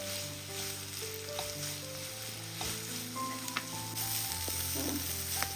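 Sliced onions sauté in a pan over a medium flame for a quick evening snack, a soft steady sizzle close by with a faint scrape of stirring and some background hum, no voices.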